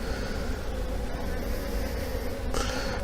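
Honey bees from a weak colony buzzing steadily inside an opened hive, a loud, continuous close-up drone with no pause throughout.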